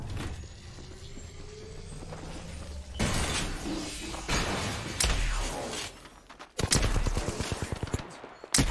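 Flatline rifle gunfire in a video game, with rapid bursts of shots and sharp impacts that grow louder and denser after a quieter opening, ending in a dense volley of cracks.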